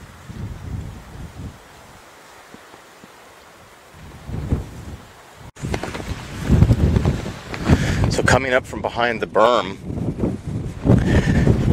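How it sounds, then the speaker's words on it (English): Strong wind sweeps across Glass Beach in Napa, California, buffeting the microphone with a loud, gusty low rumble that grows stronger halfway through, while a person talks over it. "wanted to show that it's extremely windy."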